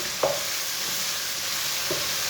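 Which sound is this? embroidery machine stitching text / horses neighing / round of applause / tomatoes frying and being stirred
tomatoes frying and being stirred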